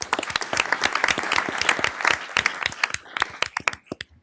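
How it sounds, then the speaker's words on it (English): Applause at a county board meeting, a small audience clapping in a brisk, uneven patter for several seconds before thinning out into scattered final claps. "let's give them all a round of applause."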